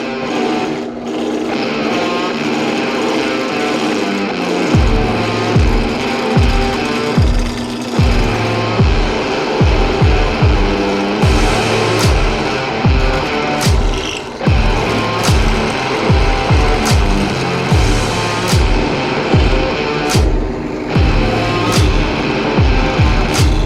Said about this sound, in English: So what I'm doing is I'm drilling out the holes that I'm going to use.